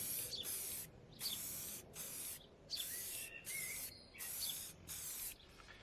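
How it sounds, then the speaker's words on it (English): An aerosol can of spray paint sprays onto a Radofin Tele-Sport III games console under repair, in about eight short hissing bursts with brief gaps, close by. "I'm just going to give this a quick spray."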